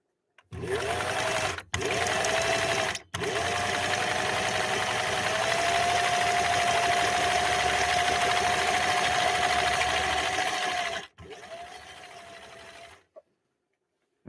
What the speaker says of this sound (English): going to try laying down our first decorative ornamental stitch